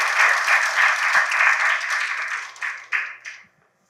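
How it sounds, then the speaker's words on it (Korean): A church congregation at a 60th anniversary thanksgiving service gives sustained, dense applause that fades out with a few final claps, close and lively, with no talking. "여러분 환영하는 마음으로 뜨겁게 박수 한번 다시 한번 해주시기 바랍니다"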